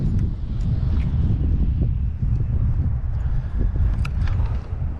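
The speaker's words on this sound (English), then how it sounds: "This is very uncomfortable wind, guys. Very extremely uncomfortable wind." Strong, uncomfortable wind blows outdoors during early-spring bass fishing, a loud continuous low rumble buffeting the microphone with gusty surges throughout.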